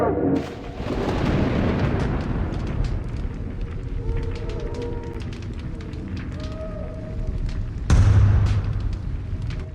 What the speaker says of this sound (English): Gargarensis already sieges the gate!